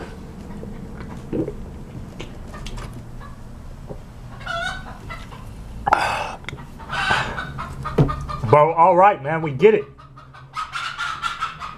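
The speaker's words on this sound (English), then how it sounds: "This chicken is getting out of hand." A chicken clucks and squawks loudly in bursts close by, while someone talks intermittently over it.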